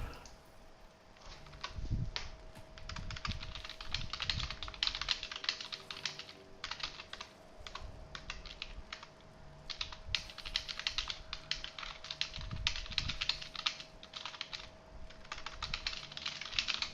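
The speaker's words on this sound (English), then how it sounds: "Speed typing." Rapid keystrokes clatter on a computer keyboard in a steady, fast stream of close clicks over a faint electrical hum, with no voices.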